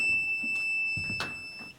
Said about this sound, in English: That was a long beep.